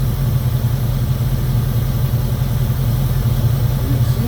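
A 2002 Jeep Grand Cherokee with the 4.7 V8 idles roughly with a misfire and melting coil problem, a steady low engine drone running close and loud for the whole stretch with no talk.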